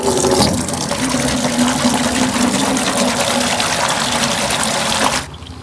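Hot water pours steadily into a container for bathing a kitten, with a continuous splashing rush, fairly loud and close, stopping abruptly near the end.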